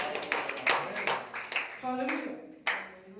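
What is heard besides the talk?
congregation clapping in church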